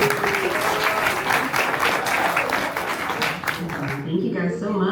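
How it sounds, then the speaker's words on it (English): An audience at a reseller meetup in Frederick, Maryland breaks into loud, sustained applause with cheering, the dense clapping tapering off near the end as a voice begins to speak. "everybody give a big round of applause for StorageTreasures.com"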